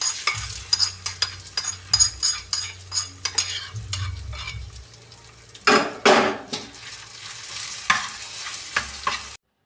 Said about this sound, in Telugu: ఇప్పుడు మామిడికాయ తురుములో వేసి కలుపుకుందాం.